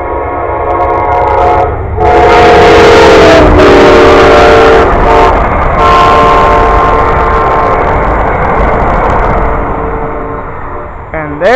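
Amtrak Silver Star passenger train passing close, loud steady rumble of cars on the rails with a harmonic horn blast sounding over it, rising and falling, continuing for several seconds before fading.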